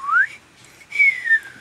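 Someone whistles two short rising and falling notes, clear and close, with a brief pause between them.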